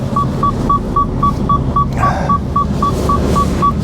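Steady repeating seatbelt warning chime inside a lorry cab, about a dozen evenly spaced electronic beeps over a constant engine hum.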